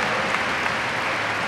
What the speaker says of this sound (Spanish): Menuda ovación del público.